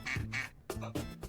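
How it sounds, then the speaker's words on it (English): A duck gives four quick nasal quacks in two pairs separated by a short gap, fairly close and clear against a quiet background. "It's a duck."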